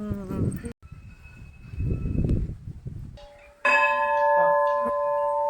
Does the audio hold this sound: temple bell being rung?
yes